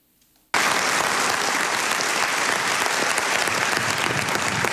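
Sustained applause from a crowded hall at a NATO meeting, where a new secretary general takes the chairing gavel; the clapping starts abruptly after quiet and continues dense and even throughout.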